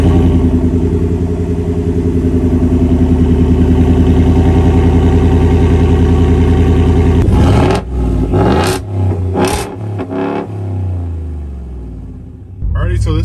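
Borla Atak exhaust on a 2022 Ford F-150 V8 pickup at a cold start: a loud, deep rumbling idle, then throttle blips and revs with brief pops before settling back into a quieter burble.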